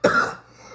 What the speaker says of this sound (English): you started coughing